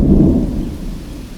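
A loud, deep rumble of thunder rolls through a rainstorm in Okinawa, strongest at the start and slowly fading over steady rain noise.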